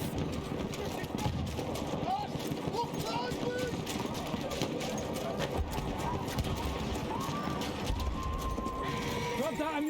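A horse gallops with rapid clip-clop hoofbeats and lets out a neigh amid battlefield ambience in the video game Battlefield 1, a steady, busy scene with shouted voices and distant gunfire underneath.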